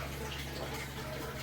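Pre-treated barrel water runs into a tank during the fill stage, a quiet continuous splashing trickle over a low steady hum, with no one talking.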